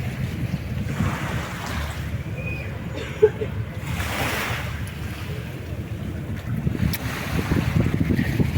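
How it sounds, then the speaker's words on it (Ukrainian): A ferry that carries trucks across the sea makes a low, steady rumble beneath heavy wind buffeting the microphone, constant throughout and growing slightly louder toward the end. "От на такому корабликові переправляються на ту сторону фура."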